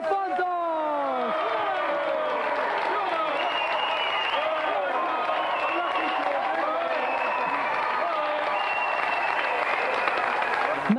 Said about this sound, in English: a big round of applause for our gallant competitor, George Delafontos!